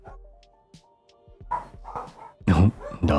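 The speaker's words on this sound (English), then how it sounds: "Oh, dogs." Dogs bark in several quick, fairly close yaps on a road during a cycling tour, mixed with a person speaking and a thin tonal whine early on.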